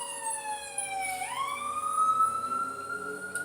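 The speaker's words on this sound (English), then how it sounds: "sorry, there's a ambulance coming" A wailing ambulance siren drones loudly and continuously, its pitch sliding down and then back up as the vehicle passes close by, with traffic rumbling faintly underneath.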